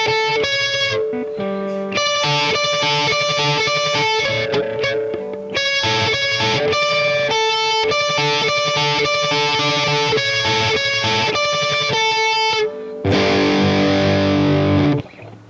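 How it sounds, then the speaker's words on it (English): Distorted electric guitar plays the slowing ending riff of a song, loud repeated chords and notes with short breaks, closing on a dense, noisy strummed burst before cutting out. "the ending part where the guitar slows down, the rhythm slows down"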